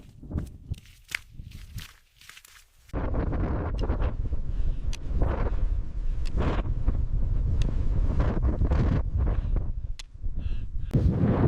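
Strong gusts on Ben Nevis buffet the microphone during a solo hike up Britain's highest peak, a loud continuous roaring rumble that starts abruptly after footsteps and short quieter moments and persists throughout.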